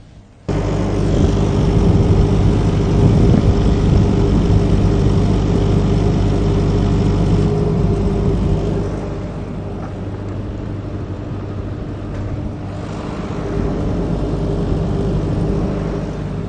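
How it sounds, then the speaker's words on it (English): A generator engine runs loud and steady while an electric car charges on a road trip across Australia, a constant low drone that eases down partway through and then holds, with no talking. "I will go and unplug the charger and turn off the generator"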